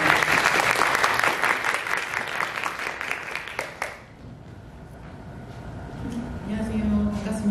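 An audience at a Chungkang college class-review event applauds to welcome a professor onstage. Loud, even clapping lasts about four seconds, then quiets into a low room hush.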